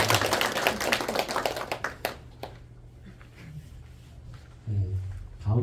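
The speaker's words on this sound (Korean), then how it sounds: "인사하실 때 큰 격려의 박수 해주시기 바랍니다" Church congregation applauding a newlywed couple, a burst of clapping that fades after about two seconds, leaving quiet room tone with a low hum.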